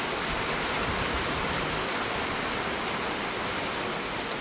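Heavy rain falls in a dense, constant rush of noise, close and loud throughout with no pauses and no voices.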